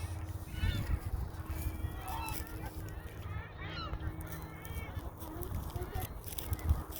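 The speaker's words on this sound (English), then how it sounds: "Swans." Swans give several scattered honking calls at a distance over a busy outdoor background near water, with people talking over them.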